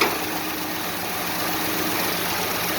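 A 5.7 Hemi V8 idles steadily after an intake manifold install, tuned lean at idle. The low, even rumble carries a slight pulsing throb, close and constant, with no talking.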